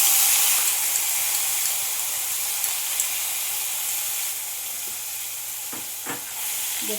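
Ground onion paste added to hot oil in a frying pan for a rahu fish recipe, a loud steady hiss and sizzle that eases slightly, with a few stirring knocks near the end.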